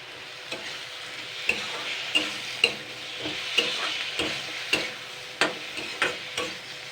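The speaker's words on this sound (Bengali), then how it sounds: "ভালো করে নাড়াচাড়া করে নেব" Fish head masala with spices is stirred in a pan, with a spoon scraping in sharp, irregular strokes over a continuous low sizzle. No voices are heard.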